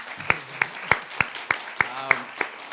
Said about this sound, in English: Please, another round of applause for Dr. Van Susteren, Dr. Clayton.